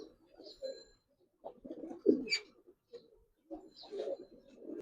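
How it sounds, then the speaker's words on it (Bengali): Red-necked giriboj pigeons cooing close by, a few low throaty coos coming in short bursts with pauses between. "লাল গলা কবুতর দেখেন"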